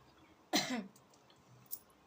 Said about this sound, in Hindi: खांसी भी इतना हो गया है कि ये छूटने का तो नाम ही नहीं ले रहा।